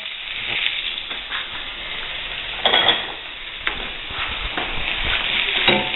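Pork chops browning in a pan over medium-low flame, a steady close sizzle with occasional spatula scrapes and clinks, one louder scrape midway, and no one talking.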